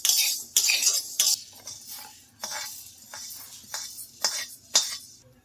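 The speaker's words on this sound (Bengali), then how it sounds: "আমি আবার ঢেলে নিচ্ছি ডালটা।" Roasted moong dal is tipped out of a metal pan, a series of loud, close scraping rattles and clinks as the dry grains and a utensil slide across the metal, in uneven bursts with no talking.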